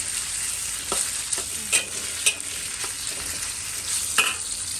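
Pork stir-fries with garlic stems over high heat: a steady, close sizzle broken by several sharp spatula scrapes and taps against the pan.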